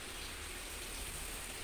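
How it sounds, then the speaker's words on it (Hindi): Heavy rain falls as a steady, even hiss with no breaks, faint and somewhat distant, while water gets into the house. No voices are heard. "अभी बारिश पूरी कम नहीं होगी"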